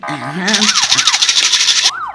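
Police siren wailing loud and close in rising and falling sweeps, first under a brief voice and then alone, with a fast warble in the middle before the slow wail returns.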